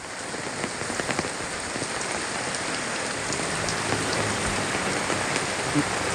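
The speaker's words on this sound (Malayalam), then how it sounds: "ശക്തിയേറിയും കുറഞ്ഞും ഇടവേളകളില്ലാതെ മഴ പെയ്തുകൊണ്ടിരിക്കുന്നു." Heavy monsoon rain pours over Kozhikode, Kerala, a dense, unbroken hiss of drops hitting surfaces that holds steady and fairly loud from start to finish, with no voices.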